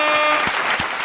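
Applause from an audience on a live French talk show, a steady loud wash of clapping that fades slightly over a second, with no voices.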